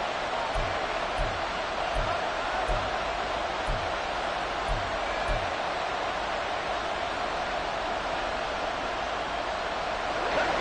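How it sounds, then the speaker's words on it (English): A football stadium crowd roars steadily throughout a home game against the Texans, a dense wash of noise with a few low rhythmic thumps early on. "this crowd trying to force a false start here"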